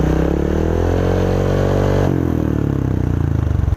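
A Honda Click 160 scooter with an aftermarket JAD Racing power pipe idles loud and close with a deep, throaty exhaust rumble, the revs dipping briefly midway before settling back to a steady burble.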